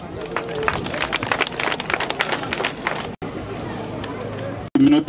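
A crowd at a marathon finish in Rwamagana applauds a runner with dense, steady clapping and murmuring for about three seconds. Background crowd noise carries on after a short break.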